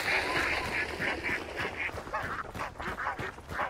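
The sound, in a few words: ducks quacking, from the video game Hunt: Showdown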